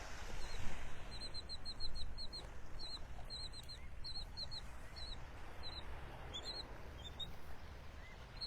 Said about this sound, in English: Some terns over here chirping.